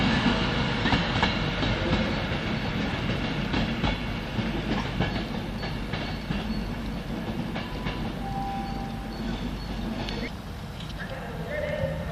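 A train sits at a Crewe station platform with a steady rumble and rattling clatter, a faint tone appearing near the end, and a voice speaking over part of it.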